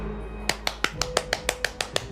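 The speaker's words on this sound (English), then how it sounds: "I'm clapping for myself." A single person claps alone in a steady, even rhythm, about a dozen sharp, close claps spaced evenly apart over a low hum, with no voice.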